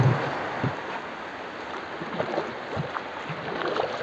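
A small wooden boat is rowed on coastal water, with soft paddle splashes and lapping water coming in uneven strokes over a hissy outdoor background, without speech.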